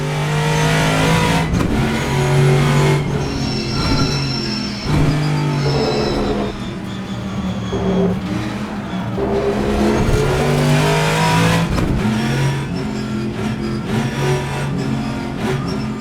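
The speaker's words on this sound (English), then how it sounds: "So a big thundering V8" A thundering V8 muscle race car engine in a sim racing video game, an analog car without electronic systems, revving up and down through gear changes, loud and close, with no talking.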